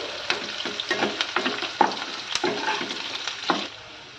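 Chopped onion frying in oil for Kurnool-style uggani, a steady sizzle broken by repeated scraping stirs of a spatula in the pan, close and moderately loud, with no talking.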